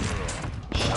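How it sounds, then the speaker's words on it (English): A shotgun blast in a video game stands out amid dense, continuous game noise, with a sharper burst near the end of the short stretch. "Shotgun."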